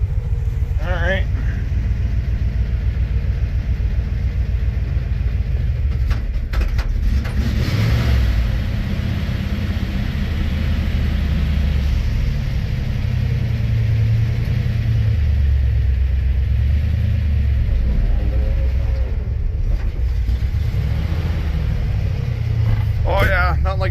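An old 1959 truck engine runs with a deep steady rumble while the tires spin in mud, loud and continuous throughout, with someone talking over it at times.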